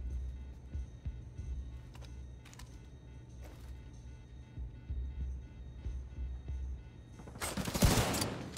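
Gunfire in the video game Tom Clancy's The Division 2: sparse faint shots early on over a low steady hum, then a loud close burst of fire near the end.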